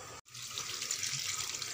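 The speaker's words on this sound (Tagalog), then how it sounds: "Ayan, hugasan muna natin yung talbos ng bayabas bago natin ilaga." Tap water runs steadily into a sink while guava leaf shoots are rinsed, a soft, close, continuous splash after a brief pause at the start.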